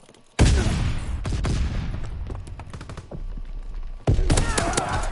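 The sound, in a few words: stun grenade explosion and gunfire in WW2 video game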